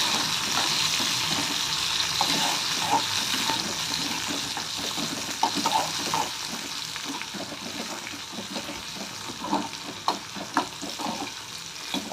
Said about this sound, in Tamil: தக்காளி கொஞ்சம் வதங்கட்டும்.